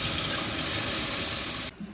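Tap water runs steadily while rice is rinsed for chicken yakitori, a loud continuous hiss that stops abruptly near the end.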